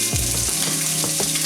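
Bacon fries in a pan for carbonara, giving a steady, loud sizzle that covers the whole moment. Faint stirring clinks sit under it, and no one speaks.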